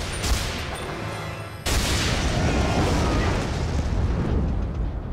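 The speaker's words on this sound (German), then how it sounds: "Es waren nur jetzt 30 Schüsse aus nächster Nähe oder so. Mit einem Sturmgewehr." Dense, loud burst of assault rifle fire in Tomb Raider Underworld, a sustained rattling volley that cuts off briefly and resumes, filling the whole stretch with continuous close-range shots and blasts.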